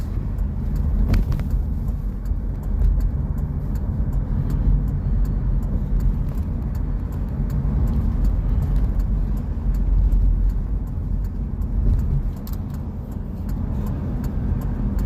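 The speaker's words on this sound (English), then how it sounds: "Here, I'll drive you around Waldport a little bit." A car drives around Waldport on the Oregon coast, its steady engine and road rumble heard from inside the cabin, continuous and fairly loud with no voices.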